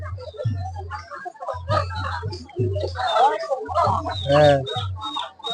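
Desi chickens clucking at a village poultry market, with short bursts of clucks and chirps mixed under close, steady conversation.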